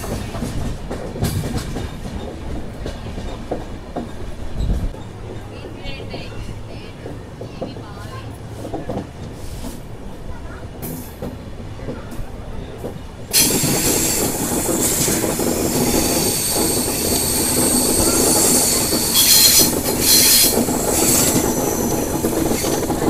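Padmavati superfast express with LHB coaches runs at speed between Tirupati and Secunderabad, heard from inside: a muffled rolling rumble with wheel clatter that jumps to a much louder, brighter roar partway through, as if a door or window opened.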